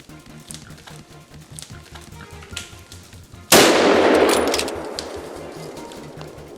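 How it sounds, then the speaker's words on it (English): A single sharp, loud gunshot bursts out midway and rings off into a fading tail, following a stretch of quieter rustling ambience from wild boars on farmland in Italy. "The gunshots caused chaos."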